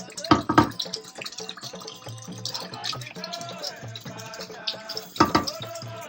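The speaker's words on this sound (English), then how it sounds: "So next I'm going to put my parboiled rice in." Parboiled rice poured into a pot of water for a Nigerian dish, heard as watery splashing and pattering, loudest in bursts near the start and end, with someone talking over parts of it.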